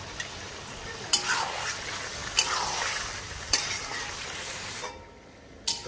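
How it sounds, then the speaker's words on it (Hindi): Chicken karahi frying in a pan, a continuous sizzle broken by a few sharp scrapes and clinks as it is stirred, close and fairly quiet. "थोड़ा और भूनेंगे।"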